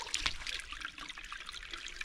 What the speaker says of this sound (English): Let me wash my hands right here.